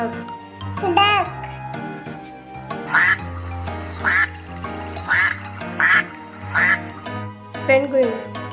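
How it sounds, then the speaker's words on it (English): A duck quacks five times in a fairly regular series, loud and close, with a voice speaking briefly before and after the calls. "duck, duck,"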